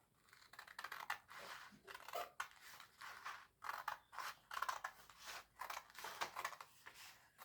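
Scissors cutting two sheets of paper to make paper birds, a quick rhythmic series of crisp snips, close but quiet, repeating steadily throughout.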